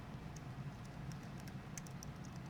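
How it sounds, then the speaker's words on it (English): Typing on a computer keyboard, a run of light, quick, irregular key clicks up close over a quiet low hum, with no voices. "I'm going to click in the text box and type in our first line."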